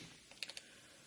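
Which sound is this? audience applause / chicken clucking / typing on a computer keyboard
typing on a computer keyboard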